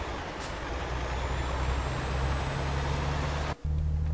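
Heavy truck driving in Euro Truck Simulator 2, a continuous low diesel engine drone with road noise and a faint high whine, steady and close, briefly cutting out near the end before resuming.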